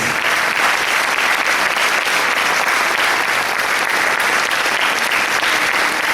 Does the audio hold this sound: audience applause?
yes